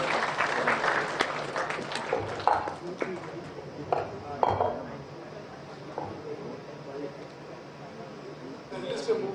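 Scattered audience clapping at a sports-technology conference panel, loosest and strongest at the start and then thinning to sparse individual claps, with talk and stage noises mixed in.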